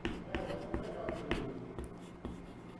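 Chalk or a marker taps and scrapes across a classroom board in short strokes with a few sharper knocks, heard close while a teacher speaks over it.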